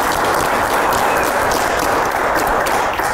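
Steady, dense clapping from a crowd of relatives at a family reunion gathering, sustained and fairly loud for the whole stretch with no clear pauses.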